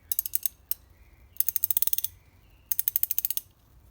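SW STAHL double ring extra long ratcheting wrench, its ratchet mechanism giving rapid bursts of sharp metallic clicks in three runs separated by brief pauses, close and crisp.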